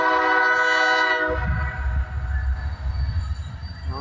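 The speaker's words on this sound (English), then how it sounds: "We got a train coming off in the distance in the background." A slow freight train sounds a long, loud horn blast, then rumbles and clatters along the tracks past a park, a steady low roll continuing after the horn fades.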